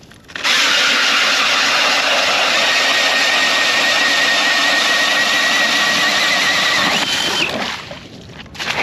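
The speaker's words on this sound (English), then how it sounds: "let's get a hole drilled out here and see what we have for a thickness" A powered ice auger bores through lake ice in Fairmont, Minnesota, its loud steady motor whine running for about seven seconds before easing off as the bit breaks through.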